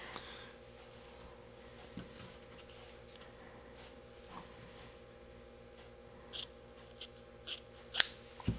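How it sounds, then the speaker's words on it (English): Scissors snip through the strands of a Samson Vortex double-braid rope to taper it, a series of short, crisp cuts coming faster toward the end over a quiet background. "Just put a long, gradual taper on it with your scissors."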